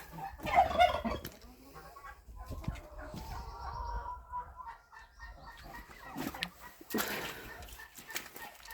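Chickens cluck and squawk close by in short bursts, with a few sharper calls and some rustling between them.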